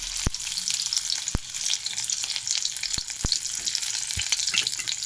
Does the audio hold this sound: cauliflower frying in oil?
yes